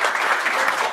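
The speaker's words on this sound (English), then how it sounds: "Let's give them a warm round of applause." A brief burst of steady audience applause closes a session at the Free Market Road Show, sounding as a dense, even wash of clapping.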